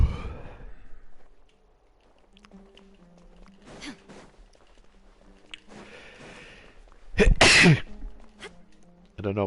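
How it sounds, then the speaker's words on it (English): A single sharp, loud sneeze bursts out near the end, with quiet movement and faint rustling around it. "I don't know why am I sneezing"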